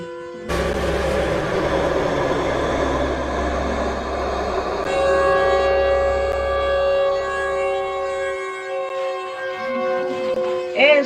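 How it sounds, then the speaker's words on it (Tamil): A long wailing siren in the Roblox elevator game with steady harmonic tones holds for several seconds over a low rumble, fairly loud and continuous, fading slightly near the end. "இப்ப சைரன் வரும் பாரு"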